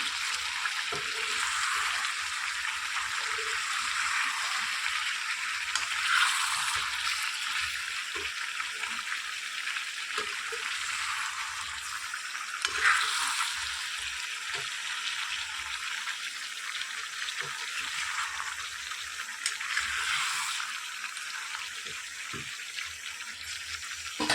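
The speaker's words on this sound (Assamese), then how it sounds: "আৰু মাংস ভাজি আছোঁ।" Duck meat frying in a pan, a soft steady sizzle with occasional louder bursts of crackle, close by and quiet, with no talking.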